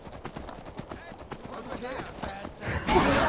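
A horse in the video game Skyrim clip-clops in a quick, uneven run of hoof beats, followed by a louder burst near the end, while someone talks excitedly over it.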